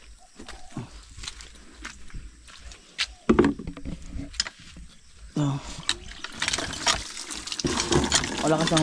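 Hand water pump worked in uneven strokes, with water gushing and splashing in bursts that grow stronger toward the end, while people talk nearby.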